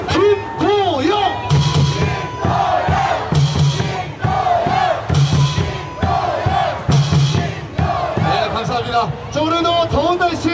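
A baseball crowd at Incheon Munhak stadium chants together after a home win, rhythmic massed shouts in repeated bursts alongside a loud amplified voice leading the cheers, with echoing stadium reverb throughout.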